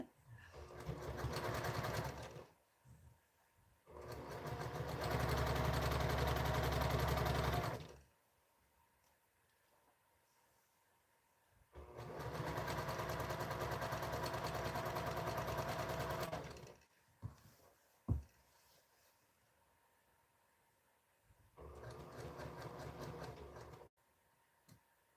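A sewing machine stitches quilt fabric in three long, steady whirring runs, each several seconds long, separated by quiet gaps with a few soft clicks, close up and without speech.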